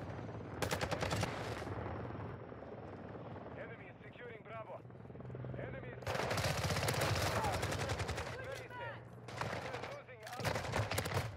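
Rapid bursts of gunfire from a weapon in Modern Warfare 2 crackle in several volleys, loud and close, with a quieter gap in the middle and a voice talking over parts of it.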